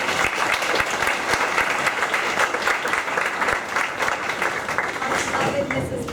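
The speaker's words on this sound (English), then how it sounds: "If you could please clap for him and welcome him." Audience applause at a boys' soccer college signing day in a school setting, a dense, steady wash of many hands clapping that holds for the full stretch without easing.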